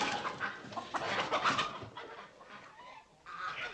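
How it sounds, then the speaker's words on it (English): Several chickens cluck and cackle in a busy, overlapping chorus in a hotel lobby, fairly close, with no talking. "Just some chickens cackling in the lobby."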